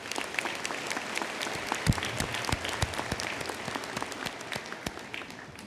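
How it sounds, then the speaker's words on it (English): A crowd applauds at a fall university commencement ceremony, steady scattered clapping heard at a moderate distance that holds evenly throughout without anyone speaking over it. "let's give them a round of applause"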